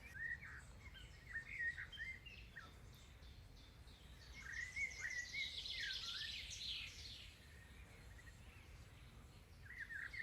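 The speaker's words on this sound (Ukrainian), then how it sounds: "Хто це фігаче, що це за птах?" Bright, warbling bird song rises and falls at a moderate distance, with bursts of chirps against a low rumbling outdoor background.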